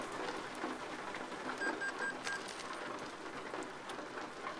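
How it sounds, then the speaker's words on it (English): Steady rain in American Truck Simulator, a continuous soft hiss of drops with a few faint clicks and chimes, moderately loud and even throughout, no voices. "it is still raining, 10 hours later"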